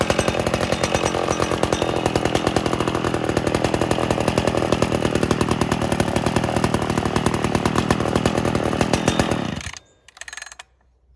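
A McCulloch SP60 chainsaw runs steadily at a loud, buzzing idle-to-mid throttle for about nine seconds while warming up on a cold start, then cuts out abruptly, leaving a brief faint rattle.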